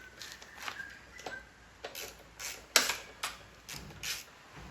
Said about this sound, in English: Just got to do up our bottom bolt quickly.